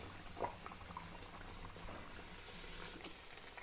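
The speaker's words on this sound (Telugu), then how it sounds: "ఆయిల్ కూడా హీట్ అయిపోయింది చూడండి ఫ్లేమ్ని మీడియంలో పెట్టుకొని ఇప్పుడు అరిసెల్ని వేసుకోవాలండి" Arisalu rice sweets frying in hot oil over a medium flame, a constant soft bubbling and fizzing, fairly quiet, with a couple of faint clinks and no speech.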